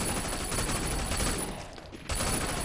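Rapid sustained gunfire in the video game Sleeping Dogs, a dense loud burst of automatic shots that briefly thins out and then resumes.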